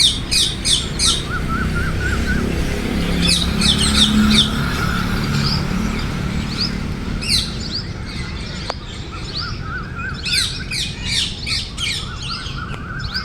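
Harsh, repeated parrot squawks ring out in bursts, with chirping sparrows around them over a steady outdoor background hum, at Aaji Dam in Rajkot.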